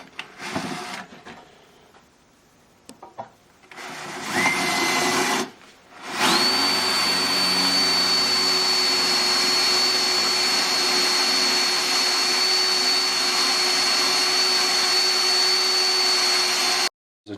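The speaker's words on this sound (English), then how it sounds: "now I'm going to drill them out to 3/16 and rethread them" A power drill runs steadily for about ten seconds, loud and close, opening out bolt holes on a 1984 Cat Elm wood stove to 3/16 inch, after a few short starts and bumps of handling.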